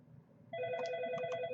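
A phone rings during a lecture, its electronic tone starting partway through and holding steady with repeating chirps, fairly loud against a quiet room background.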